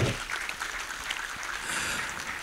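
An audience at a town hall session on digital fraud crime applauds VIP guests with a steady, dense round of clapping that holds at an even level throughout, with no talking over it.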